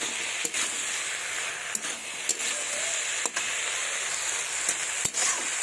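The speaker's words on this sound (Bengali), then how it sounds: "আমি দিয়ে দেবো শুকনো লঙ্কা বাটা, আদা বাটা, জিরে বাটা। এবার ভালোভাবে মশলাটাকে নাড়াচাড়া করে নেব" Spice paste of dried chili, ginger and cumin stirred in a pan, a steady hiss of frying with several sharp scrapes and clicks of the spoon at irregular intervals, close up.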